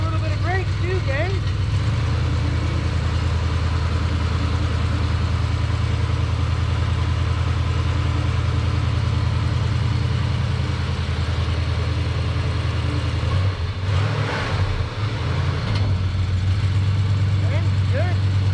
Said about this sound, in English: Engine's good. Rear end sounds good.